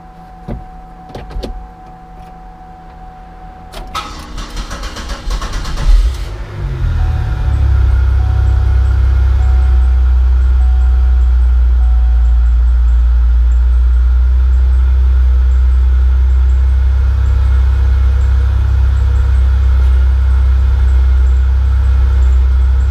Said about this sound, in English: Let's start this up, let it run for a minute.